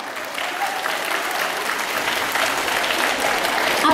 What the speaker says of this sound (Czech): Já myslím, že i teda děvčata si zaslouží potlesk.